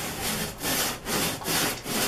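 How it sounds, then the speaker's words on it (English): Cleaning mixture being rubbed by hand into a mattress, a steady close scrubbing swish repeating in even strokes about every half second, with no talking. "But you just get it rubbed into the mattress really well."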